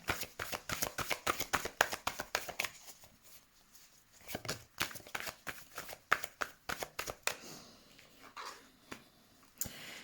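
Tarot cards are shuffled by hand in a quiet room, giving a rapid, rhythmic run of soft papery riffles and slaps. The bursts come in quick clusters with brief pauses, faint and close.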